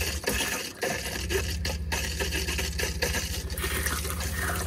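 Tap water running to flush a household water tank and pipes, a steady rushing flow with a low churning rumble, close by and continuous, joined by faint clinks partway through.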